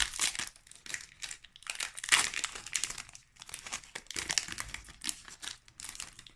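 A Pokémon card booster pack from a Célébrations box being torn open, close foil wrapper crinkling and crumpling in repeated bursts with one sharper rip partway through.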